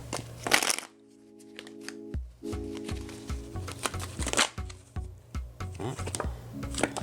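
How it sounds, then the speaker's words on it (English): Tarot cards being shuffled and drawn by hand: soft papery riffles, flicks and slaps in irregular bursts, with a voice speaking intermittently over them. "Let me see if I can pull another clarifying card as well for this one."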